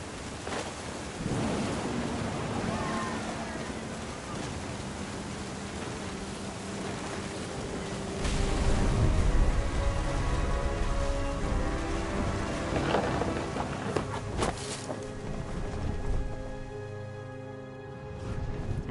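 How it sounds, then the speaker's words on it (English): A thunderstorm in What Remains of Edith Finch: steady heavy rain hiss with a deep rolling thunder rumble swelling midway, dense and close, with no voices. "The thunder sounded much too close and full of angry power."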